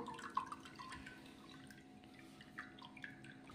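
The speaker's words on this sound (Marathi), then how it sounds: "परत एकदा आपण पाण्यानं हा चोथा निघालेला धुवून घेणार आहोत" Water rinsing wheat pulp residue for kurdai, a Marathwada-style wheat dish: faint, soft drips and trickling water, low-level and steady with no voices.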